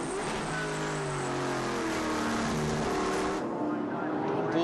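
V8 race car in a New Zealand V8 series race at Taupo Motorsport Park, heard from on board as a loud, steady engine roar with shifting revs and gear changes, under a commentator talking throughout.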